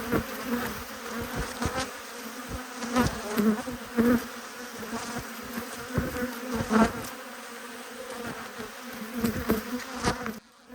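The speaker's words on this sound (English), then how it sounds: "it looks like there's a good amount of bees in these hive" Honeybees drone in an open white hive with a block of brood. The buzzing is close and steady, swelling and dipping with a few brief louder surges, and no one speaks.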